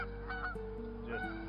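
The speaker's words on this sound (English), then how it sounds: "gotta let these geese get through." Geese honking as they pass, a few loud overlapping calls in two bursts over a steady low background hum.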